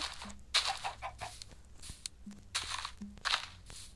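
Short Minecraft chicken clucks recur among crunchy, noisy bursts of game sound effects, fairly close and moderately loud.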